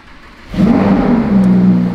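A crashed Lamborghini with 29,000 miles starts up on the first try, the engine catching abruptly and settling into a loud, close rumbling idle with a slight rev.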